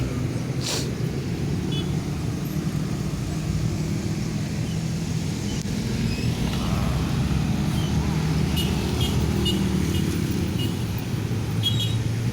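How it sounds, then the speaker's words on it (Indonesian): Dense, slow-moving road traffic at the Simpang 4 Macan Lindungan intersection on Jalan Soekarno Hatta in Palembang, a steady broadband engine rumble throughout with no clear talk. "kendaraan dari arah Macan Lindungan masih terlihat rame."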